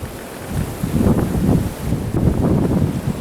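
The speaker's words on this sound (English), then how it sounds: "Wind" Wind gusting outdoors over snow, a rough rushing roar that swells and fades in uneven waves, with buffeting on the microphone.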